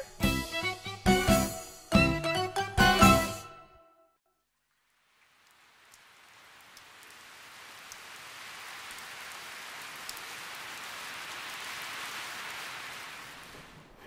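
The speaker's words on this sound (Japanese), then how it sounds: "おや、最後の夜は雨か。" Steady rain falling at night in the mountains, a dense continuous hiss that fades in after a brief silence and holds evenly to the end, with no voices.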